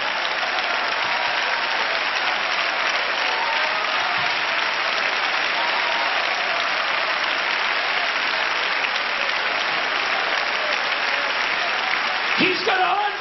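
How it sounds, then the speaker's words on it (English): Church congregation standing and clapping during a 1988 sermon gathering, a dense, steady wash of many hands filling the room throughout, with a brief louder burst near the end. "Come on, let's clap our hands."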